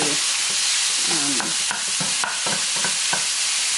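Ground pork browning in a very hot pan, a steady loud sizzle with frying crackle and repeated scraping stirs of a utensil across the pan.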